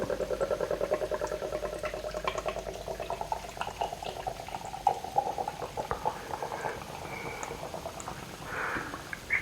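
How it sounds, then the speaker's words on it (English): Paolozzi Helles Lager pours from a can into a glass, a steady fizzing, gurgling stream close up that runs continuously, with a rising hiss of foam toward the end and no talking. "Right, let's pour it and see what we get."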